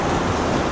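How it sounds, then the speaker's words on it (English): Sea surf washing in over coastal rocks at dawn, a loud continuous rushing wash with some wind buffeting the microphone. "with the waves hopefully just coming in through the middle"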